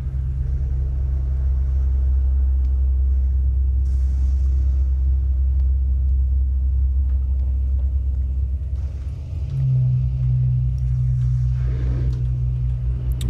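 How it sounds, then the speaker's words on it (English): A storm rumbles in Stalker Anomaly, a loud, continuous low roar that holds steady throughout, shifting slightly in tone partway through, with no voices. "Hopefully this storm doesn't last too long"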